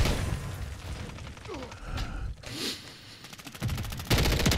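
A JAK Nightshade gun in a shooter game fires in rapid bursts, with several quick strings of shots separated by short pauses and mechanical handling sounds, loud and close over game background noise.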